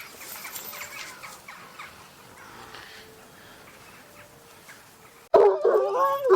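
Kangal dogs barking harshly near the end, loud and close, after a stretch of low, muffled background noise and faint yelping.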